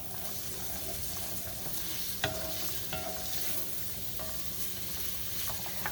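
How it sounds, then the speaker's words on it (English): Soup with carrots is stirred in a pot, a soft continuous scraping and swishing with a light simmering sizzle, punctuated by a few small clinks of the spoon against the metal, close and fairly quiet. "Stir that real well."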